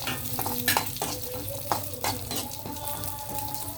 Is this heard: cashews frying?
yes